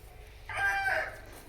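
A rooster at a Telugu poultry breeding setup kept for sale gives a short, moderately distant crow of about a second, standing out over quiet farmyard background noise.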